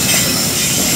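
Coal freight train running straight through Cibinong station without stopping, a loud, steady roar of rolling wagons and rail noise filling the whole second at close range.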